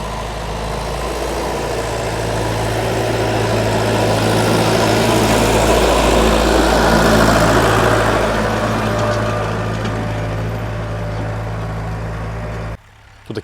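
A DTZ 5404 tractor engine runs steadily under load while plowing with a two-furrow plow, a deep, low rumble that swells in the middle, then cuts off abruptly near the end.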